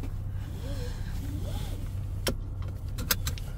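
A seatbelt is pulled across and clicked into its buckle inside a Nissan Micra 1.0 IG-T Xtronic parked at Zaventem airport. Soft webbing rustle comes first, then a few quick sharp clicks over a low cabin hum.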